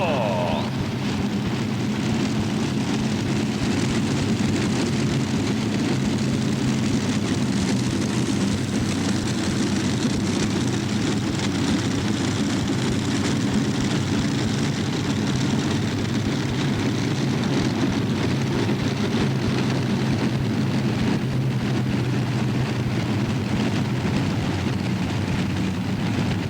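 Heavy, continuous engine roar from the Mission Impossible pulling tractor, driven by seven big Chevy engines at a 1990 tractor pull at the Cow Palace, a loud droning rumble that stays steady throughout.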